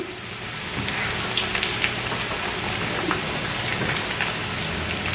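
Onion and garlic frying in hot oil until golden brown, a dense, steady crackling sizzle with scattered sharper pops, fairly loud and close, with no voices.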